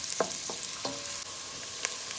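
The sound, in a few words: onion frying in pan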